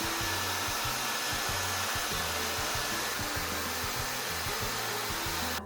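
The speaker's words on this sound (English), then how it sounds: "So I'm gonna go diffuse" A hair dryer fitted with a diffuser runs steadily while drying curly hair, a loud, close, continuous whooshing drone with a pulsing low hum beneath it, and no voices until it cuts off at the end.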